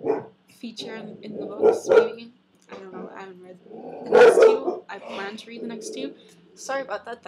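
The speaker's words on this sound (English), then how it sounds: "She's barking at the garbage man." A pet dog barks at the garbage man from inside a home, sharp barks and a bit of growling mixed in among a person's ongoing talk, fairly close and loud in bursts.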